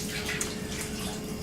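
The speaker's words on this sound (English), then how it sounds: "Give this a little rinse for you." Tap water running steadily into a sink while a dish is rinsed, a continuous close splashing hiss with no speech.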